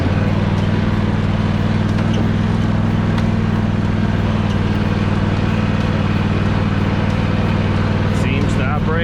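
A John Deere D Series riding mower running on a short test ride: its engine drones steadily and loudly throughout, with a constant low hum and a little sharper noise near the end.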